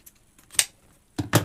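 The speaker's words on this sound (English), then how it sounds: "I'm going to cut this off here." Scissors snip through ribbon while a bow wreath is being made, a few short, crisp cuts up close in otherwise quiet surroundings.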